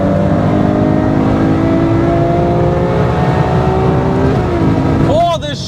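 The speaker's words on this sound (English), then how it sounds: "Oh, the shifts are so strong in the race mode" A Ferrari 812 Superfast's engine roaring loud and close under hard acceleration in race mode, a sustained rising howl that breaks off with an abrupt shift near the end, a voice briefly audible.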